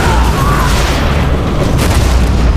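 A missile shot down in the C&C Generals video game explodes as a loud, sustained rumbling boom that fills the short clip with dense low roar and crackle.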